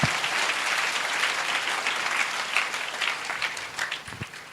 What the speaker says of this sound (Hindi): तो एक जोरदार ताली प्रभु की महिमा के लिए बजाएंगे।